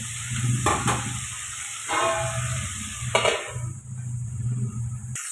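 Moringa drumstick, cauliflower and cabbage curry sizzles steadily in a pan with the lid off, with occasional scraping stirs of a spoon against the metal, close up and without talk.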